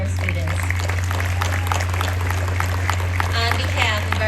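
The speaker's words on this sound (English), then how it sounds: "And a nice round of applause for our students." Audience clapping for graduating students at a Class of 2021 high school commencement ceremony, a steady broadband patter of many hands over a constant low hum, with some voices mixed in.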